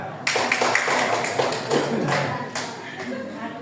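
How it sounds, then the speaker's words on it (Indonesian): A classroom group claps for Bella in a dense, uneven patter of hand claps that rises and fades, with voices talking over it. "tepuk tangan dulu untuk Bella"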